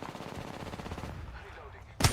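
Rapid automatic gunfire in a video game, a fast rhythmic burst of shots that fades after about a second, followed by a sharp loud crack at the end.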